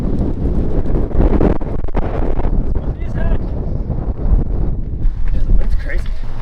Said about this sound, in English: the wind's crazy